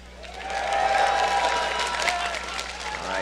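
An arena crowd at a League of Legends playoff match applauds and cheers for Invictus Gaming, a sustained swell of clapping and shouts that peaks early and tapers slightly, with voices mixed into the roar.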